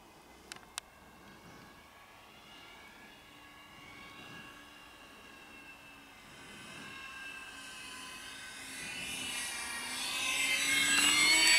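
An RC Avios Albatross HU-16 flying boat, 1620 mm span, makes a low pass, its motor whine faint at first and rising steadily in pitch and loudness as it approaches, with no talk during the pass.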